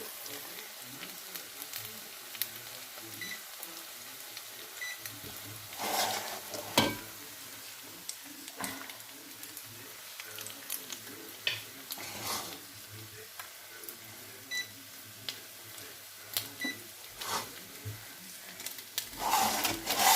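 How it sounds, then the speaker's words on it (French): A chili pepper sautés in a pot for a ratatouille-style shakshuka, giving a faint, low sizzle under scattered clicks and knocks of a spoon against the pot, with some quiet sounds in the background. "J'ai rajouté un piment dans la marmite que je vais laisser revenir un petit peu."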